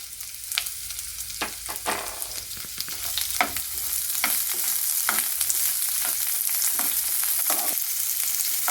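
Onion, green chilies and a few cashews fry in oil in a pan, giving a steady sizzle broken by repeated scraping stir strokes that grow denser as the frying goes on.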